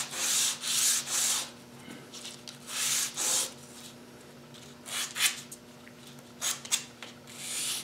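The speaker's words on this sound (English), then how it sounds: "I actually sped the sanding process up and I get a much nicer finish." Hand sanding on small wooden pieces for miniature segmented discs: bursts of scratchy rubbing in short strokes, pausing between passes, close and moderately loud with a faint steady hum behind.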